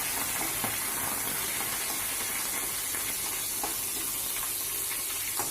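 Green chili and curry leaves sizzle steadily in hot oil for Kadi Pakoda, a dense continuous frying hiss with faint scrapes as a frying spoon stirs them, fairly close and without voices.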